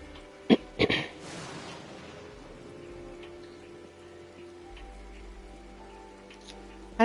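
Rainfall during a thunderstorm in the Fallout video game, a faint, continuous patter of rain after a couple of sharp, loud knocks near the start, with a deeper low rumble building in the second half.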